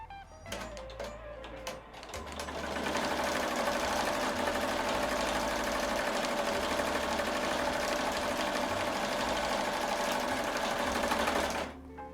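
A home embroidery machine runs steadily at 750 stitches per minute, stitching a sequin hoodie with a fast, even mechanical chatter that holds loud and close for about nine seconds after a few starting clicks.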